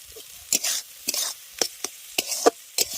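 A spoon stirs chopped green tomatoes and sugar in a pan, making quiet repeated scraping strokes in an even rhythm over a soft sizzle.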